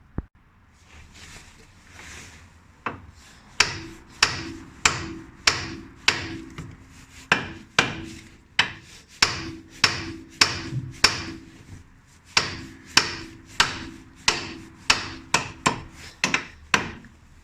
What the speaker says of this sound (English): Just so I can knock that loose to pull the shaft out.